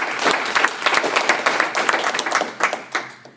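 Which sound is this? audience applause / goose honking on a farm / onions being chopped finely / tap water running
audience applause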